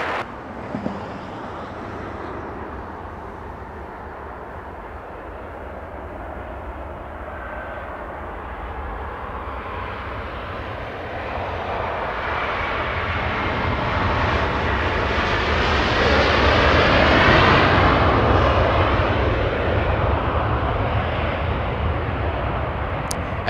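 An airliner lands on runway 24 right at Los Angeles International Airport, its jet roar steady at first, then swelling to a broad peak as it passes near before easing slightly, with no voices.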